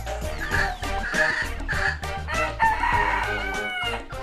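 A Polish chicken rooster crows loudly and close by in a long, strained cock-a-doodle-doo, with other fowl clucking and calling around it.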